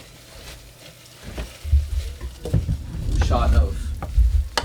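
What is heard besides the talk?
stirring a sizzling pot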